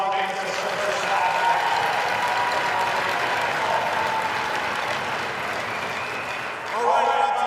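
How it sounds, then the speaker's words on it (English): Audience at a high school state championship game between Brookings and Rushmore gives sustained applause, a steady wash of clapping throughout with a brief dip near the end. "I give them a round of applause."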